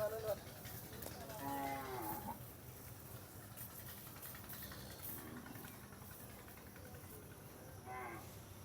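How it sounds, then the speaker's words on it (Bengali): Cattle at a Narayanganj livestock market for Eid sacrifice low with several loud drawn-out moos, one early and another near the end, over a faint hissing background. "এখানে আমরা দেখতে পাচ্ছি বেশ সুন্দর সুন্দর কিছু গরু হাটে এসেছে।"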